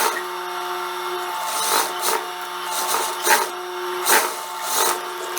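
A sewing machine stitches a seam along a neckline cut on a jumpsuit, running in a steady mechanical whir with a few short louder bursts as the needle speeds up, close and alone.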